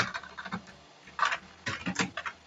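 Keys clatter on a computer keyboard in uneven bursts of close, crisp clicks, with brief pauses between flurries of typing during a flyer design session in Microsoft Word.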